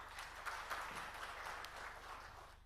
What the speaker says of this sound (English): So big round of applause to Nandaraj.